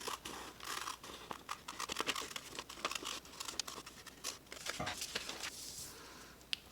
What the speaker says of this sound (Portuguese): E agora, é só eu cortar o molde com as duas metades juntas.